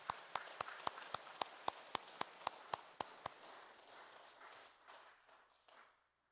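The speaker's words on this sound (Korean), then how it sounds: "우리 환영의 박수로 맞이하도록 하겠습니다" Church congregation giving a welcoming round of applause during a Sunday morning worship service, a brisk series of sharp, evenly spaced claps that thins into scattered, softer clapping before stopping.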